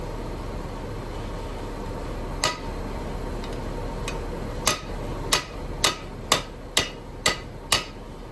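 Hammer blows flatten a metal sheet edge beside a roll cage weld in a Subaru Impreza, a few isolated strikes followed by a steady run of about seven sharp, evenly spaced metallic hits over a low background hum.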